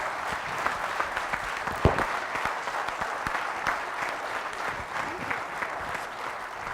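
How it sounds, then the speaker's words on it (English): Audience at a TV versus digital advertising debate at a business school summit applauding the speakers: a steady, moderately distant roll of many hands clapping without pause. "I just want to give a big hand of applause to our speakers"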